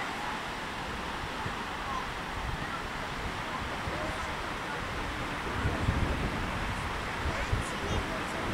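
Summer seaside at a beach near Riga, with steady broadband surf and wind rumbling continuously, moderately loud and fairly even, swelling slightly toward the end, no voices.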